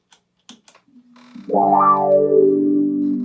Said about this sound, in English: Let's add a little delay and a little reverb.